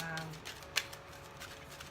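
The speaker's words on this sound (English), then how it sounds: "I do shuffle the cards to get the energy" A deck of tarot cards being shuffled close by, with soft riffling and a sharp snap near the middle.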